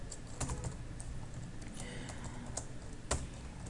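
Steady keyboard typing while writing code, a rapid run of light key clicks with occasional sharper taps, close and alone with no talk.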